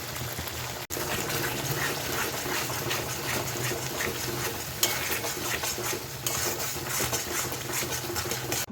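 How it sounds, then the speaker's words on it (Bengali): Spinach paste is stirred into cooked spice masala in a pan. A continuous close sizzle and wet scraping carry on throughout, with a few brief knocks of the utensil. "মশলাটার সঙ্গে পালক শাকের পেস্টটা ভালোভাবে মিলিয়ে নেব"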